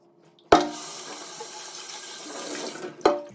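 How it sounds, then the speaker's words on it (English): Water runs steadily from a tap as plaster residue is rinsed out of a bucket and down a sink drain, with a splashy burst at the start and a brief surge at the end. "I have just rinsed out a bucket that had a little bit of plaster residue in it, and it went right down the drain."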